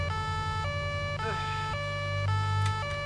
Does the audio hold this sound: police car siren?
yes